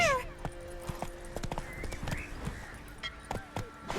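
Roach, a horse in the video game The Witcher 3, whinnies briefly at the start, then her hooves clop in a loose, uneven rhythm of close, moderately loud steps.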